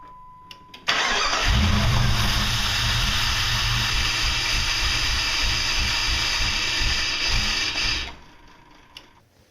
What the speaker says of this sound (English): Now, start your engine.